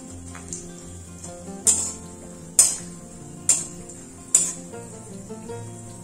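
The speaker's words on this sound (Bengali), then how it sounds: "এবার আমি কাজু বাদাম ও আলমন্ড বাদামগুলোকে হালকা লাল করে ভেজে নেব।" Chopped cashews and almonds fry in ghee while a utensil stirs them, with a soft steady sizzle beneath sharp, evenly spaced taps against the pan.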